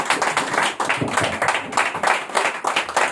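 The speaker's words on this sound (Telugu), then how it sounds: "మనం సంతోషంగా చప్పట్లు కొడదాము" A church congregation claps together during a pastor's service, producing brisk, steady rhythmic clapping that fills the room at close range, with a faint voice now and then beneath it.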